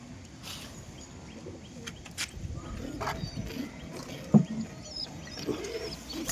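Domestic pigeons kept at home coo softly nearby, with scattered chirps, brief wing flutters and a sharp knock partway through, all fairly faint against a quiet room.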